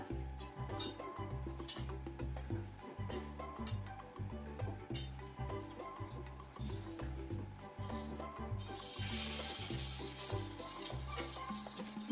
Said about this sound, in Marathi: ब्रेड थोडा फ्राय व्हायलाच पाहिजे ना त्याच्यामुळं थोडा गॅस स्लो ठेवते